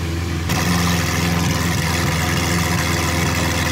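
A Lamborghini Aventador SV engine idles loud and close, a dense, steady roar that swells slightly after the first half second and holds without a break.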